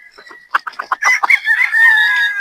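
A gray straight-comb rooster gives a few short clucks, then a loud, close crow that rises and holds in a long drawn-out call.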